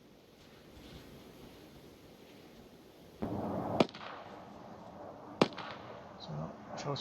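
Bomb from air support in the Arma 3 war game exploding in the distance as a sudden low rumbling boom over wind noise, followed by a couple of sharp cracks, with faint talk.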